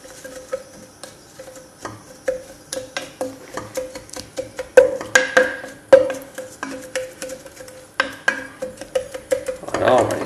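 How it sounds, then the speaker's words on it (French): Solid shampoo mixture stirred in a small container, giving a close, steady run of quick clinking scrapes and taps with a brief rough swirl near the end. "Et on mélange."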